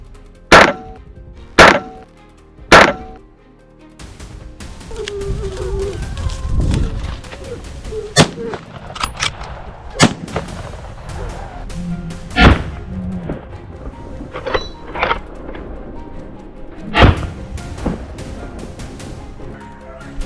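Sharp gunshots ring out in the open during a wild boar hunt. Three come in quick succession, then more are spaced through the rest, loud and close, with rustling and movement between them.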